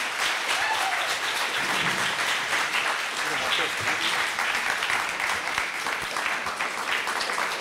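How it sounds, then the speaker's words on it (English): An audience at a Wamfest poetry and jazz event gives a round of applause, steady dense clapping that fills the whole stretch at full volume. "a round of applause for David Daniel"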